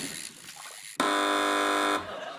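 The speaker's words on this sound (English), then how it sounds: "Fingers on buzzers." A quiz show contestant's buzzer on a British panel comedy programme sounds one loud, steady electronic tone lasting about a second, set apart from quieter studio background before and after.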